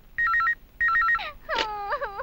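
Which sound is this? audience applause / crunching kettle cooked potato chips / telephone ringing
telephone ringing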